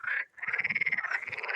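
A frog croaks by the water in a botanical garden, a close, rapid pulsing trill after a brief pause, clear and alone with no voices.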